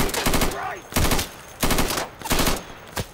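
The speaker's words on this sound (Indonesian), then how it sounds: "ada orang yang nembakin ke sini" Gunfire in the video game Insurgency, heard as four separate bursts of rapid automatic fire spaced about half a second apart, loud and close.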